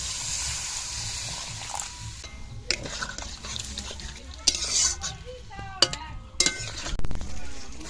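A cabbage and egg curry is stirred in a pan: soft sizzling and a watery wash, broken by sharp metallic clinks and scrapes of a spoon against the pot, with a faint voice in places.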